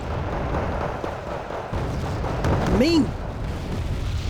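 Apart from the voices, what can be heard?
rocket artillery explosions in video game Wargame Red Dragon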